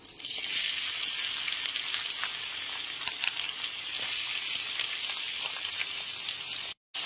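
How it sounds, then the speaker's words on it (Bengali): Chopped onions sizzle steadily in hot oil with whole garam masala over a medium gas flame, a dense continuous frying hiss throughout that cuts out briefly near the end. "গ্যাসের ফ্লেমটা মিডিয়ামে রেখে পেঁয়াজগুলোকে লাল করে ভেজে নেব।"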